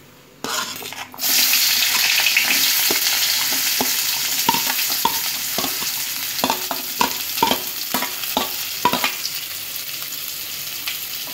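Chopped onions drop into hot oil with a burst of loud sizzling that continues steadily, punctuated by light scraping stirs against the pan.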